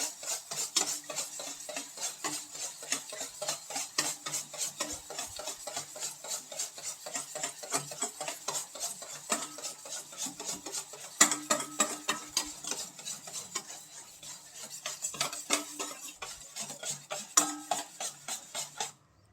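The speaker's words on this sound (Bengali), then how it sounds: "তেল আর ডিমটা যত সুন্দরভাবে ফাটানো যাবে কেকটা তত সুন্দর হবে" Oil and eggs are beaten by hand in a bowl for a Christmas cake batter, making fast, continuous rhythmic clinking and scraping of a utensil against the bowl, close and moderately loud, with short pauses and no talk.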